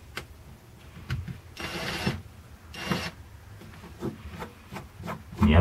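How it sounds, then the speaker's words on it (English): A power drill slowly backs a screw out of a steamed wooden boat rib, giving two longer whirring bursts between short scraping and rubbing sounds, close by and with no talking. "I can hopefully just use my drill, fit that over the top, and then back it out slowly with the direction of the thread"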